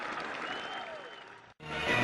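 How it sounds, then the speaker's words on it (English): A huge crowd in Accra cheers and claps as Kwame Nkrumah is released from James Fort Prison, a dense wash of applause and voices that cuts out briefly near the end, then swells back. "a huge crowd cheers as Kwame Nkrumah leaves James Fort Prison"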